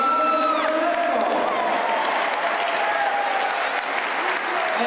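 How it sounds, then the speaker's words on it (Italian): Loud, sustained applause from an audience fills the room, steady clapping throughout with a few faint voices underneath. "Un applauso a Francesco."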